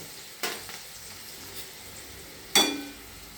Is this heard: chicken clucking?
no